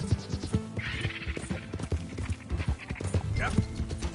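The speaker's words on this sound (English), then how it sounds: "It's just a donkey, idiot." A donkey in the Red Dead Redemption 2 video game gives a couple of rising, wheezy bray calls over a steady patter of hoof clops on the ground, at moderate loudness.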